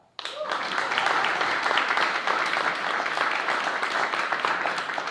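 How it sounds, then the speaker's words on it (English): At a school board of education meeting, an audience breaks into applause for a student swimmer, rising sharply from near silence into a sustained, dense wash of clapping that holds steady at moderate loudness. "Applaud."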